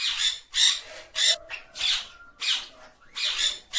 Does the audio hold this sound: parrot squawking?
yes